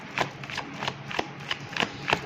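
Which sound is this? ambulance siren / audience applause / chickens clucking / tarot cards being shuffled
tarot cards being shuffled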